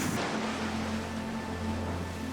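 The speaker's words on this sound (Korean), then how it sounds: "이 파도가 굉장히 또 크게 이제 또 오거든." Large ocean waves break on a rocky village shore as a continuous loud, close roar of surf and rushing water with no pause.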